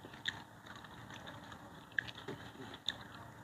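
Crispy deep-fried pork tail being chewed up close, with a few sharp crunchy bites over soft, steady chewing noise.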